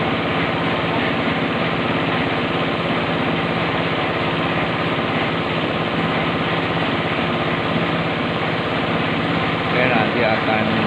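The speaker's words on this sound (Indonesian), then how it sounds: "Karena ada 2 mesin molen yang dioperasikan." Two concrete mixer engines run during slab casting for a mosque extension in Klaten, giving a steady loud rattling drone, with people talking over it.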